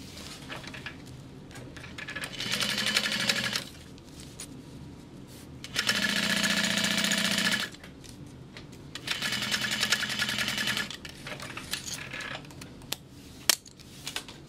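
A sewing machine top stitching a bag runs in three separate bursts of rapid, even stitching, each lasting a couple of seconds with short quiet pauses between. It is close and fairly quiet, with no talking.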